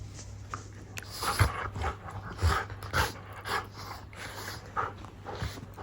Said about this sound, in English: having cuddles with all the puppies